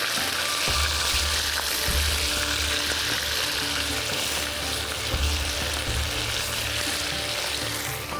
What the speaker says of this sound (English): we're frying the chicken in shallow oil